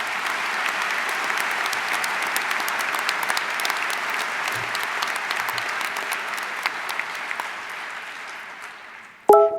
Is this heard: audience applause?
yes